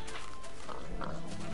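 Pigs oinking in Minecraft, a few short grunts close by over a steady game background, with no voices.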